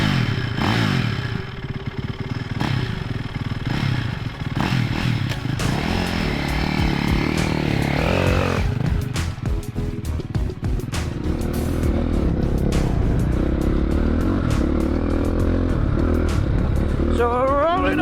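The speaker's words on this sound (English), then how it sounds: "So we're rolling onto the track. First of all, on board the Ducati Desmo450." Ducati Desmo450 dirt bike rides on a track, its engine droning and revving continuously with clatter and scraping, fairly loud and close, with brief talk at times.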